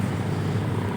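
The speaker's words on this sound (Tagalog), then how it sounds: "May aeroplano sa taas." AirAsia airplane passing overhead near Dolomite Beach on Roxas Boulevard, Pasay, heard as a steady broad engine rumble and roar for about a second.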